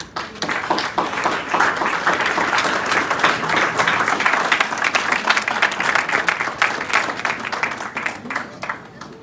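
Crowd at an opening ceremony acclaims His Majesty Akati II Titilevo of Comé, with loud, dense, sustained applause from many hands over about nine seconds and faint voices mixed in.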